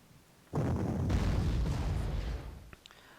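Artillery fire in a Panzer Corps wargame set in 1939 Poland: one heavy blast that booms out and rumbles for about two seconds, then fades with a few faint crackles.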